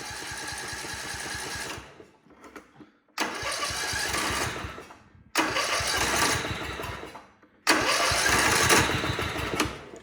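A Gravely 1434 zero-turn mower's small engine cranks and catches repeatedly, running in loud sputtering bursts separated by short quiet gaps as it is started over and over, close up.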